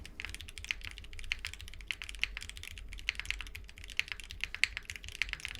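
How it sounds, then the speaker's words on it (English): Rapid typing on a Wind X65 65% mechanical keyboard, a steady clatter of crisp, close key clicks with irregular louder strokes, no talking. "I'll show you guys what this sounds like right now."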